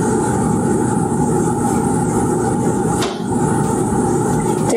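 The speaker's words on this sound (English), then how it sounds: "My neighbor is mowing their yard." A neighbour's lawn mower drones steadily while mowing a yard, a constant loud engine hum that barely dips once, with no talk over it.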